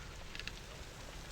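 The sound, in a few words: freezing rain falling outside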